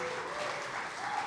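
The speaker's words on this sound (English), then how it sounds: "please give a round of applause to James, Tim, and Preston for sharing with us their expertise." Audience applauding panelists at the end of a business panel on the alternative cloud market, a brief, steady wash of clapping at moderate distance with no voices over it.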